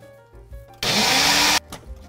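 Blender whirring loudly for under a second as it purées hot broth, butter and vegetable slop into gravy for slow cooker beef, starting and stopping abruptly amid quieter kitchen sounds.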